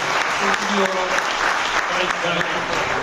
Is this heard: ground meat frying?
no